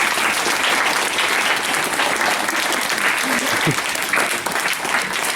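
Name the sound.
school pupils applauding their teachers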